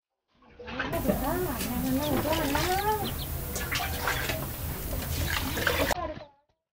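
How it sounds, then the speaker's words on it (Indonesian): Black glutinous rice being rinsed in water, with steady sloshing and swishing throughout while a person talks over it. "Beras ketan hitam aku cuci sebentar."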